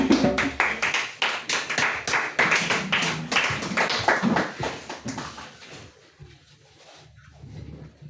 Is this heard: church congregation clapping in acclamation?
yes